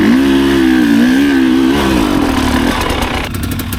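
A dirt bike engine revs hard while climbing a training obstacle, a loud, close, sustained buzzing drone that wavers in pitch, then drops off and sputters toward the end, with no voices.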